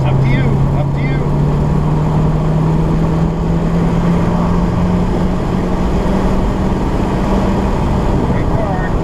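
Race car engine on the Sonoma track during a NASA high-performance driving session, a loud steady drone whose pitch climbs slowly as the car accelerates, with wind and road roar throughout.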